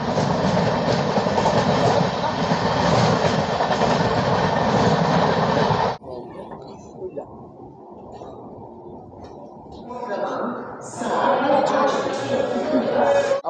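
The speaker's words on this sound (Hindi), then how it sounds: "पहला अमृत भारत एक्सप्रेस को overtake Kolkata Agra weekly express" The Kolkata–Agra weekly express overtakes on an Indian railway line, and a loud rumbling roar with clickety-clack wheel rhythm fills the first half before dropping to a quieter rattle, with a voice briefly near the end.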